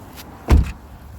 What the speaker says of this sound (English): So then we'll close the door